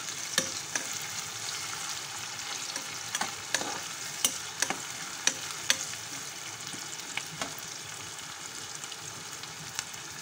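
Onions and habanero pepper fry in a pot for beans, giving a constant close sizzle broken by frequent sharp clicks and scrapes from a stirring spoon, with no talking.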